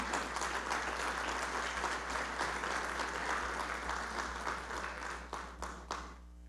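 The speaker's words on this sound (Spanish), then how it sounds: "Dale un fuerte aplauso al Señor Jesús." A church congregation claps loudly and continuously in praise, a thick wash of applause from many hands that thins out and fades near the end.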